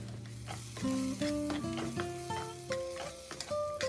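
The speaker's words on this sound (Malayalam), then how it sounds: "ചേർത്ത് കൊടുത്ത് നന്നായിട്ട് മണം വരുന്നവരെ ഒന്ന് വഴറ്റണം" Garam masala and spice powders sautéing in oil for a capsicum curry, with a low sizzle under repeated clear stirring scrapes and tonal clinks of a spoon against the pan, close and steady.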